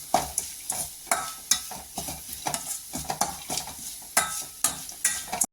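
Grated coconut sautés in a pan for coconut rice as a spatula scrapes and stirs it in quick, rhythmic strokes over a low sizzle. Metal clinks sit close.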